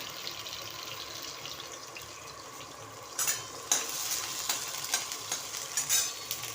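Garlic and chili fry in a pan with cumin and mustard seeds, starting as a faint steady sizzle. Partway through, a run of louder crackling bursts and stirring scrapes follows, close and with no speech.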